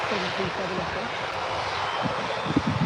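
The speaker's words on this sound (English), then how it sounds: "Here's your EasyJet heading out right now." An EasyJet airliner departs Birmingham Airport with a continuous, moderately loud engine roar, while a person talks over it and brief louder bumps rise near the end.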